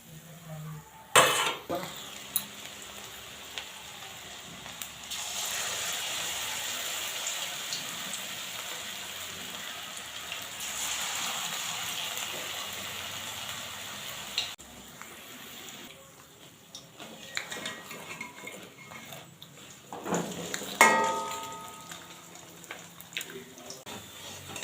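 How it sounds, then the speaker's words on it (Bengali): Vegetable pakoras frying in oil give a steady, rain-like hiss of bubbling, with clatters of a utensil and pan at the start and near the end. "ঠিক এইভাবে আমরা পরের পকোড়াগুলো ভেজে নেব"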